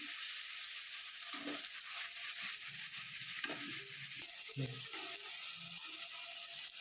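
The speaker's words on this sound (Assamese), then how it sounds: "জিৰাখিনি দিছোঁ, ধনিয়া গুড়াখিনি দিছোঁ আৰু বিলাহী পেষ্টটো দি দিছোঁ। এতিয়া ভালকৈ লৰাম।" Cumin, coriander powder and tomato paste stirred in a pan, faint scraping and soft sizzling under a steady hiss, with a few brief louder scrapes.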